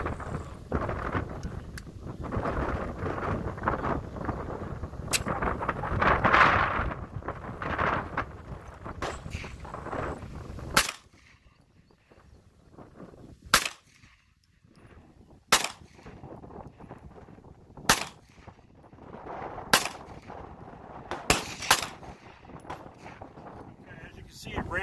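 A Kahr CM9 9mm pistol fires six rounds outdoors, sharp loud cracks spaced a couple of seconds apart, with wind noise and a person talking beforehand.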